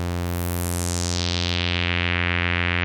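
An additive synthesizer's stack of steady sine-wave harmonics holds a constant pitch while a filter cutoff sweeps downward, so the bright upper partials fade away over about three seconds and leave a darker, mellower sustained tone with no voices.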